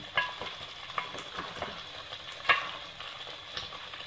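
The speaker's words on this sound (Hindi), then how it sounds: "देखिए भुनना हमारा शुरू हो गया, इसमें ऑयल निकलने लगा।" Chicken gravy masala with coriander powder and chili is frying over low heat in a pan, a faint, soft sizzle broken by occasional scraping stirs.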